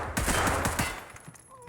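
A rapid burst of automatic gunfire from a DT MDR .308 rifle in Escape from Tarkov, several sharp shots in quick succession then fading into a short tail, moderately loud in the game mix.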